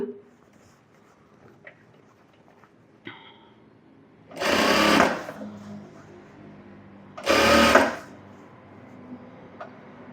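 A sewing machine joins a blouse sleeve to the body in two short, loud, close runs of about a second each, separated by quiet handling.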